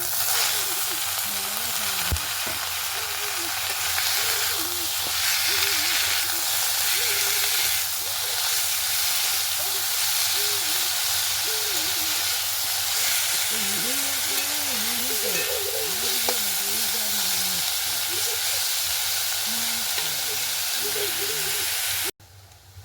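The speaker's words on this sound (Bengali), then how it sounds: "শাকগুলো ভেজে নেব।" Leafy greens fry in oil in a pan with a constant loud sizzle and hiss lasting about twenty seconds, a faint voice underneath, before it abruptly cuts off.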